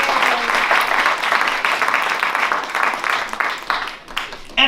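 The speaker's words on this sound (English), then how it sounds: "wonderful, wonderful, wonderful round of applause" An audience at an MLK tribute jazz concert applauds a saxophone player with a loud, dense, continuous round of clapping that fades slightly toward the end.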